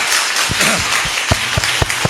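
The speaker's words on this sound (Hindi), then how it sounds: "ताली बजाओ, चट चट चट चट खत्म" Scattered claps from a small group, a few separate sharp hits spaced irregularly over about two seconds, fairly loud against a steady background hiss.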